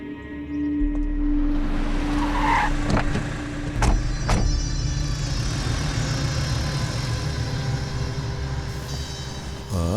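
A car rolls in close and brakes, with a low engine hum, a few sharp knocks and a squeal-like tone before the motor settles into a steady idle.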